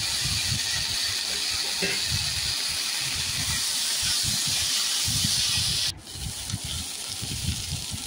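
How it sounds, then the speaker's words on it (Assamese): Panounowa greens sizzle loudly and steadily in a hot pan, a dense continuous frying hiss that drops briefly near the end, then carries on slightly quieter. "পনৌনোৱা শাকখিনি দি তাতে মই ভালদৰে ভাজি ল'ম এতিয়া"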